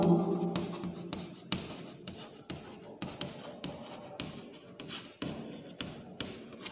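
Chalk or marker writing on a board during a Hindi grammar lesson, a continuous run of scratchy strokes with distinct taps as each stroke starts, fairly close and heard alone.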